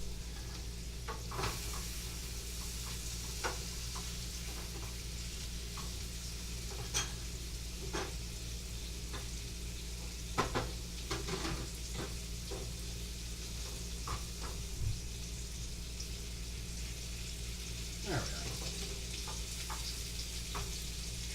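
Mushrooms and onions frying in a pan, a steady low sizzle with the occasional clink and scrape of stirring, sitting under a constant background hum.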